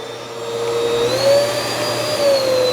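A Hoover WindTunnel All-Terrain upright vacuum cleaner running, a steady close motor whine with a rising tone that wavers slightly, loud and alone.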